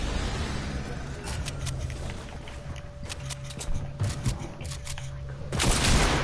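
Faint, rapid bursts of video game gunfire crackle over a low, steady background hum, growing a little louder toward the end.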